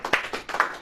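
Audience clapping at a Christian sermon, a short burst of several hand claps of moderate loudness, scattered and uneven rather than sustained applause.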